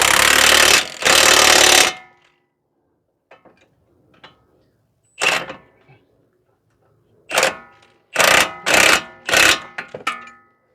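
A power tool tightens strut bolts on a 2015 Toyota Sienna AWD, firing in loud, close buzzing bursts: two long runs, then several short rattling bursts separated by near silence.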